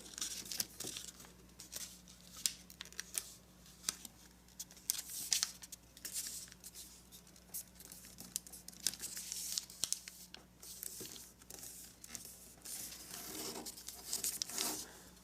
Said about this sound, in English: Let's make a valley fold that goes diagonal and ends up right at this point.